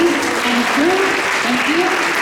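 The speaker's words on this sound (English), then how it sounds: "Round of applause, please." Audience applause after a Sunday love feast lecture at ISKCON Toronto: steady, close clapping from a crowd throughout, with voices calling out over it.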